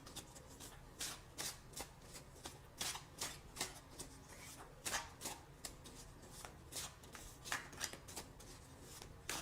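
Tarot cards shuffled by hand in a quiet room, a steady run of crisp riffling bursts and soft slaps repeating every half second or so, fairly close and with no voices.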